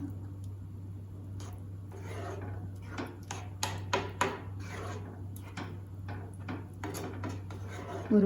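A spoon works through thick jackfruit kesari in a cooking pot, giving repeated soft scrapes and light knocks at an uneven pace over a steady low hum.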